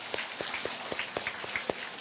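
Scattered, faint handclaps from a church congregation honoring its pastors and leaders, about a dozen separate claps spread over two seconds rather than full applause.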